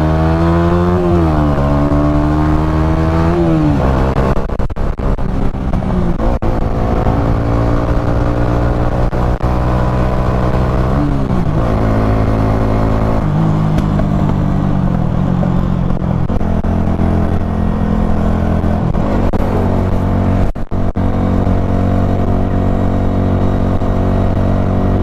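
A Honda motorcycle being ridden, its engine loud and close throughout, revving up through gears with rising and falling pitch, the steady drone carrying on for over twenty seconds.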